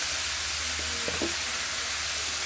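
Grated bottle gourd sizzles in a hot pan while a sweet dish is made, a constant loud frying hiss with a few soft clinks of the spoon stirring partway through.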